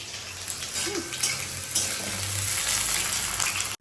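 Potato pieces fry in hot oil in a home kitchen, a dense, steady sizzle heard up close with faint background hum and a few light clatters.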